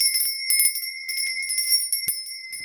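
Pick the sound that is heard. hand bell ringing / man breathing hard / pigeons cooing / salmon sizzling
hand bell ringing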